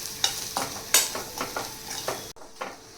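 Ground masala paste being mixed into hot oil with frying cumin and mustard seeds, with loud repeated scraping stirs over a crackling sizzle, then a brief quieter stretch.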